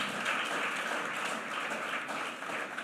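A church congregation applauds, sustained dense clapping from many hands at a moderate, slightly distant level, steady for the whole few seconds with no voices over it.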